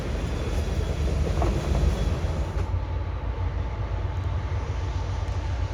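CSX freight train rolling past on the rails: a loud, continuous rumble and steady wheel noise close by, holding for the whole stretch without a break.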